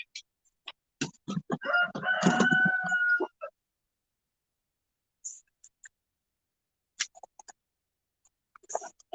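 A rooster crows outdoors in the early morning. One loud, fairly close crow lasts a couple of seconds, followed by quiet stretches broken by faint, scattered clucks and clicks.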